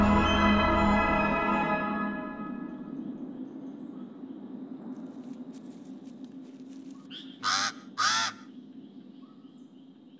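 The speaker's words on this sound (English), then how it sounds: "A pair of pied crows digs among the litter and soil of the deciduous forest floor." A pair of pied crows in Madagascan deciduous forest give two short, loud, harsh caws near the end, after a long stretch of quiet forest ambience with a fading tonal sound at the start.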